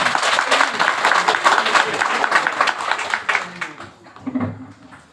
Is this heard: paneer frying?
no